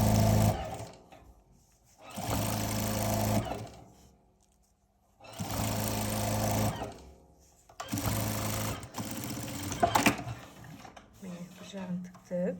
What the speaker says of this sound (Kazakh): Міне осылай лапканың бойымен тігіп шығамыз.